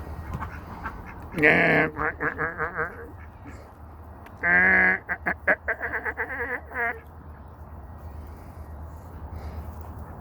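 Ducks quack loudly in a backyard flock, two bursts of rapid repeated quacks and honks close by, with a voice speaking briefly between them.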